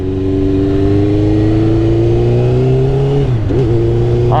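Warmed-up Suzuki GSX-R 600 motorcycle engine running loud and close at a steady pitch, briefly dipping and recovering near the end, with no voices.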